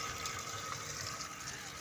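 A small battery-connected solar water pump with one solar plate and one motor runs in Pakistan, giving a steady continuous hiss and rush of flowing water with no breaks, moderately loud and close.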